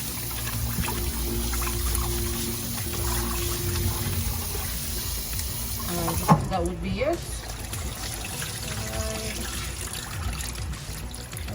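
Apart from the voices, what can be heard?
rinsing rice with running water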